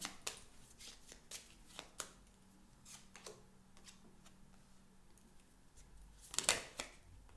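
Tarot and Lenormand cards are shuffled and drawn by hand, giving a series of quick riffling flutters and soft snaps, close and moderately quiet, ending in a louder burst of shuffling.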